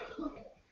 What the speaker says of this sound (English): don't cough in my house